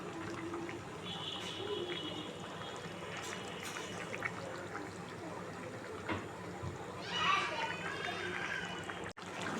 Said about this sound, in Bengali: এবার জল দিয়ে দেবো আমি।